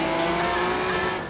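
A Ford GT races at full throttle in Forza Horizon 3, its engine holding a loud, steady, high-pitched tone with a hint of tire squeal. The brief burst runs alone with no talking.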